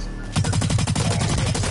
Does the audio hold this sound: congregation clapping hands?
no